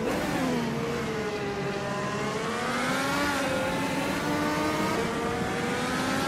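Chevrolet and Honda IndyCar race car engines scream at high revs, one steady loud whine that wavers in pitch as the cars hold position on track, with no pause in the roar.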